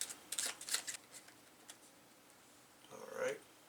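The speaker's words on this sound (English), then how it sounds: "And I need to shuffle these cards." A deck of game cards is shuffled on a table during a solo tabletop playthrough of CloudAge, with quick riffling bursts near the start and another papery flurry at the end, and a short pause between them.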